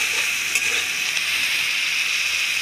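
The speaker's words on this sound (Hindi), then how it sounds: "पहले हम ऑयल में प्याज को फ्राई कर लेते हैं अच्छे से।" Finely chopped onions frying in hot oil, a steady bright hiss and crackle that stays even throughout, close, with a faint stir near the start and no talk.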